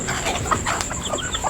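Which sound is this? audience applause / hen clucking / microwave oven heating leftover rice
hen clucking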